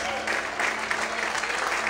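A church congregation applauds during an evening worship service, dense continuous clapping heard close and steady throughout, with voices faintly mixed in.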